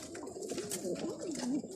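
Pigeons, among them crested black-tailed birds and a blue Akisar, coo continuously in low warbling rolls, close by and steady, with faint background noise and no talk.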